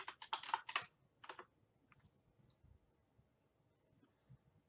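A few fast bursts of keyboard typing click at close range, a quick clatter of keystrokes followed by sparse quieter taps and mouse-like clicks in a quiet room, with no one speaking.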